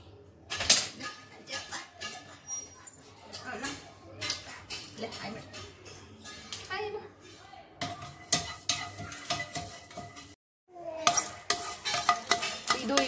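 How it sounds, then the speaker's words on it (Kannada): Curry leaves fry in a pan while a spoon stirs and scrapes them, giving irregular crackling sizzle and metallic clatter, with a brief pause before the stirring resumes. "ಈ ಎಲೆ ಸ್ವಲ್ಪ ಕ್ರಿಸ್ಪಿ ಆಗ್ಬೇಕು ಕರಿಬೇವಿನ ಎಲೆ."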